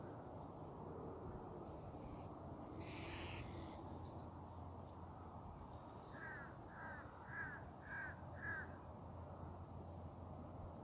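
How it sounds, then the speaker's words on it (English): A distant crow caws in a run of five quick, regular calls near the end, after an earlier lone call, all faint over a steady low outdoor rumble. "You can hear the crow in the background there."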